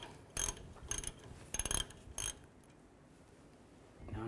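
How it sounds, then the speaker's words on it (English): A ratchet with a 5/8 socket works a tie rod nut on a 1964–70 Pontiac GTO, giving four short, crisp clicking bursts close by, then quiet. "I'll take a 5/8 socket,"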